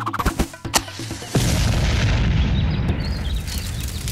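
Firework explosions go off in a watermelon field and set it ablaze: a few sharp, close bangs in the first second, then a loud, steady roaring rumble that carries on to the end.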